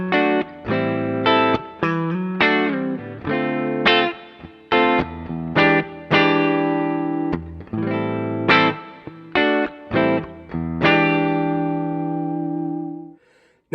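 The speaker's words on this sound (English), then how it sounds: "my clean sound. This is pretty dry. It's just got a little bit of reverb and a tiny bit of delay on." Clean electric guitar with a fairly dry tone, light reverb and a touch of delay, plays a run of distinct plucked notes and short chords, ending on a sustained ringing note that fades out.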